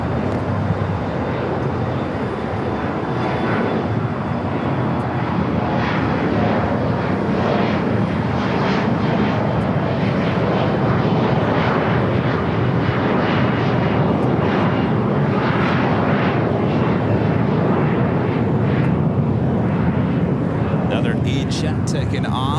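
Airliner taking off at LAX, a sustained loud jet roar that swells and rolls on for over twenty seconds, with voices talking underneath.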